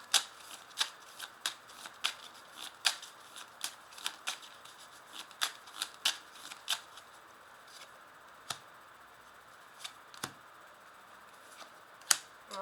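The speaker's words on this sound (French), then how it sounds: "Je vais rajouter l'oracle de Béline." Oracle cards being shuffled, a series of crisp, close riffling bursts repeating about every half second, then slowing with longer gaps, no talking.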